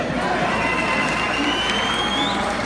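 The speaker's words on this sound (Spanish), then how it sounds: "ahora el aplauso de los que quieren dos" Crowd at a fair dance in Colonia Independencia, steady dense cheering and clapping that fills the whole stretch at close range, with shouts and voices mixed in.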